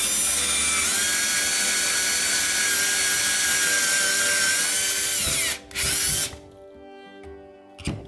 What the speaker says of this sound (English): take a drill, and then it comes with this drill bit on it, and then just drill it in